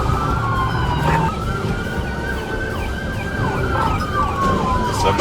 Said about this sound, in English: leaving behind sirens wailing and red-blue lights sweeping the walls